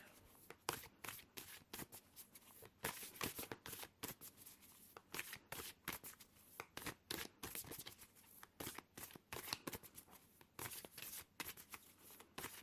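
Cards are shuffled up close in quick bursts of crisp riffling and flicking, repeating irregularly throughout at a soft level.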